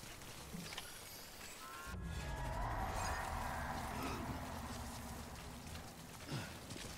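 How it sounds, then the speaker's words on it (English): Timefall rain in the Death Stranding video game patters steadily as a soft broadband hiss, swelling slightly midway, with faint rumbles beneath. "Timefall rain again."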